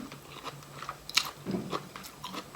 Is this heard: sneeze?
no